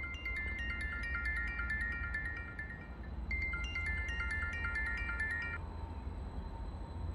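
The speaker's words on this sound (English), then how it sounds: "It's just a phone call that came through, but it was a random number." An incoming call ringtone on a mobile phone at a railway station on the Fen line, a repeating electronic melody that plays close and steady, pauses briefly, then resumes over low background rumble with no talk.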